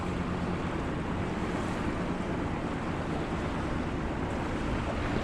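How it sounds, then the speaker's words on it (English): Incoming tidal water rushing past a boat off the coast of Greece, a steady broadband wash of flowing water and wind buffeting the microphone, constant and fairly loud with no voices. "See the water rushing in this side as well"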